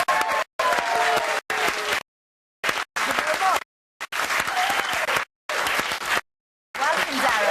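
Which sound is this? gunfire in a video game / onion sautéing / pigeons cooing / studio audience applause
studio audience applause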